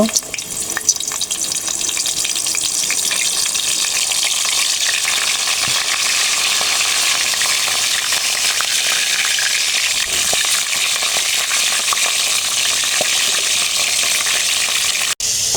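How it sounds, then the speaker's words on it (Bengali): A whole cauliflower fries in hot oil left from browning onions, turned over and over; a loud, steady sizzle fills the clip, with occasional scraping and stirring knocks. "এই তেলের ভিতরে আমি এখন ফুলকপিটা উল্টে পাল্টে খুব ভালো করে ভেজে নেব"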